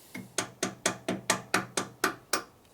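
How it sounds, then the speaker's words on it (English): About ten sharp hammer blows in a quick, even rhythm, close and loud, struck during a top-end repair on a 1958 Harley-Davidson Panhead 74ci motorcycle engine. "You get to use my hammer."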